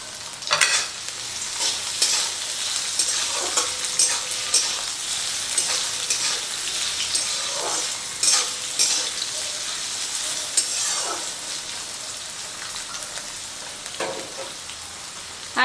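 Carrots, beans and capsicum frying in hot oil crackle and sizzle steadily at close range, with repeated scraping stirs punctuating the hiss.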